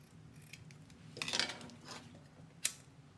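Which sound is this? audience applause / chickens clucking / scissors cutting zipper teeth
scissors cutting zipper teeth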